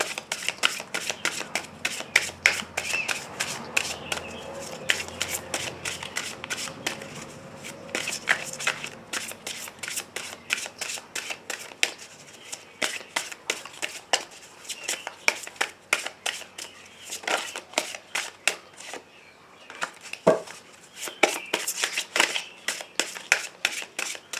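Petit Lenormand cards are shuffled for a reading, a long run of quick, crisp riffling and flicking bursts in close succession, with no talk over them.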